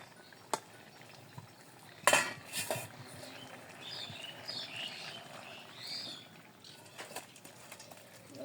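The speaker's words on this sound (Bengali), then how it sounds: "তরকারি হয়ে গেছে, এখন আমি নামিয়ে নিই।" A pot of cooked vegetable curry is lifted off a village stove with a few faint metallic clinks and scrapes, spaced apart over quiet background.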